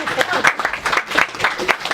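An audience at a book launch applauds invited guests, a short burst of clapping and crowd noise heard close by, mixed with voices talking.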